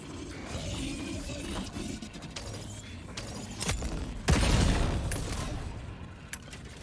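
Gunfire in the video game Helldivers 2 mixes mechanical clicks and reloading clatter with a heavy boom near the middle amid game noise.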